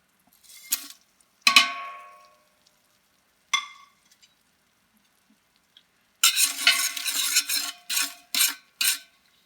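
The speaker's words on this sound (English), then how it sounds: "In the pan, I'm melting 2 tablespoons of butter" Two tablespoons of butter melt in a pan for French onion soup: a few sharp utensil clinks against the pan, then a burst of frying sizzle with stirring scrapes and short pauses near the end.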